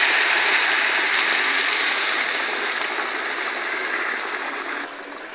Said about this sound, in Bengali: যেটি এখন এখানে গরম পানি দেওয়া হচ্ছে